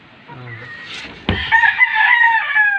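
A Rhode Island rooster in a breeder flock crows loudly and close, a drawn-out call that follows quieter clucking and farmyard background.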